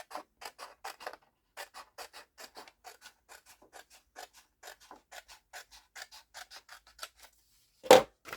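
Scissors cut through paper in a quick, steady run of dry snips, close and quiet, ending with a single louder clack.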